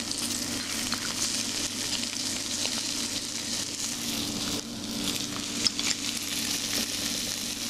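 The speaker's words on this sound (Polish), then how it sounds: "Zmniejszamy delikatnie ogień pod patelnią, ponieważ nie chcemy, żeby zbyt mocno nam się to wszystko smażyło" Chicken sizzles steadily in butter in a frying pan, a close continuous crackle and hiss with occasional small clinks, and no talking.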